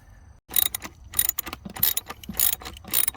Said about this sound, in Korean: 이렇게 볼트를 빼냈죠.